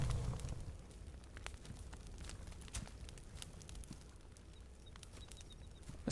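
A campfire in The Forest burns quietly, with faint scattered crackles and pops over a low steady rumble, alone and close by.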